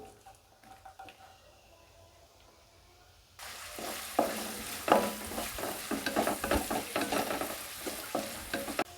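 Chopped onion and green chilli drop into hot oil, setting off a loud, steady sizzle with scraping stirs that continues to the end after a quiet opening.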